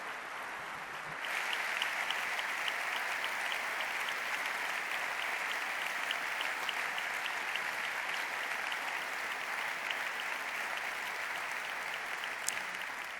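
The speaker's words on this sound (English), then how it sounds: "I should like you to applaud them" Audience at the BBVA Foundation Frontiers of Knowledge Awards ceremony breaks into sustained, even applause that swells in after a second and holds steady, a large hall's dense clapping with no voices.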